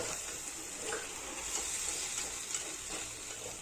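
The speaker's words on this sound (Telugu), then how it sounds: "ఇప్పుడు మంచిగా మిక్స్ చేసుకోవాలి" A cabbage and spinach (palak) manchuria mixture stirred in a pan, with a steady soft sizzle and faint scraping strokes throughout, close and low in level.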